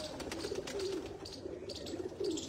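Pigeons in a loft coo in soft, repeated low throaty phrases, close by, with light rustling and faint chirps around them.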